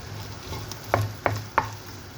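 Barbecue pork belly sizzling in a pan, a steady low fry with three sharp stirring clacks spaced evenly through the middle, close and fairly loud, no talking.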